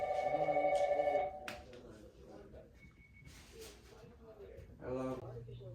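A telephone bell rings briefly at the start, a bright trilling ring lasting about a second, followed by a person speaking in a quiet room.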